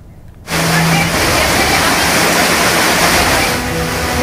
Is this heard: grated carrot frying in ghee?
no